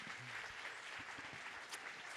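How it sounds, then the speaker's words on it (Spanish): Steady audience applause welcoming author Lina Meruane onto the stage at a book fair, a dense continuous patter of many hands with no talk over it. "Queria pedir uma salva de palmas para Lina Meruane."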